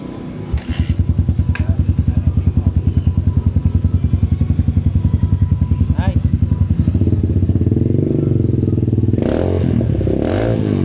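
A Motorstar MSX 150X motorcycle fitted with a Norifumi Rocket 4 muffler idles loudly up close with a rapid, steady exhaust thump, then revs up into a smoother, higher drone before settling back as someone briefly talks over it.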